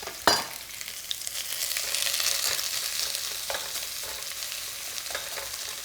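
Onions pan-fry in hot oil with a bright, steady sizzle up close, punctuated by an opening clatter and a few scattered clicks of a stirring utensil.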